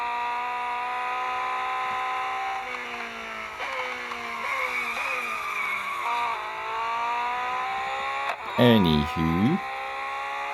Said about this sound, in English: sounds like Porsche, looks like Porsche